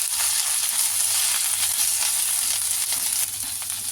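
Mint leaves and masala sizzle steadily in a hot pan for egg donne biryani, a dense, close frying hiss with faint stirring and no voices.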